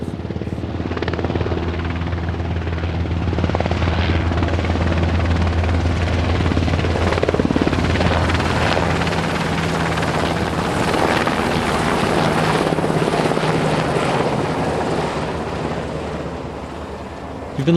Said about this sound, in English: You've been listening to a military helicopter on a summer evening.